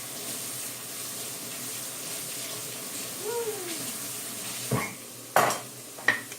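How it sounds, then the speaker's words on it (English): A spoon stirring avocado soup in a metal pot, with a few sharp scraping clinks against the pot near the end over a low background hiss. "Stir it up a little bit."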